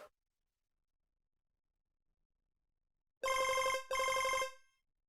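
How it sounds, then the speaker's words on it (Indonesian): A telephone ringing after near silence: two loud, bright electronic rings in quick succession, each about half a second long, close and clear with no talk. "Sebentar, saya angkat telepon dulu ya."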